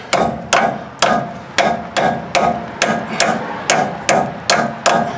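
Hammer blows drive a bearing into place without a bearing driver: eleven sharp metallic strikes land at a steady, even pace, each ringing briefly before the next, loud and close with no voices.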